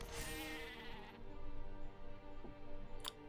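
A Rammy Goat creature card in the digital card game MTG Arena lets out a goat bleat, a short, fairly loud wavering cry over soft game background sound.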